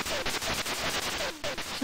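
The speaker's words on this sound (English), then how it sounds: "You have a weak firing sound and an unimpressive explosion sound" Rapid repeated firing from a ZX Spectrum video game, thin and weak, a steady run of noisy shots packed closely together with a brief gap near the end, fairly faint throughout.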